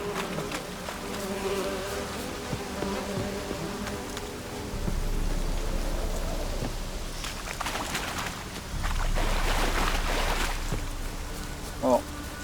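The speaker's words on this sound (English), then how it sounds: "Looks like rain." Steady rain falls in The Witcher 3, a continuous hiss layered with buzzing insects and game ambience, rising a little toward the end.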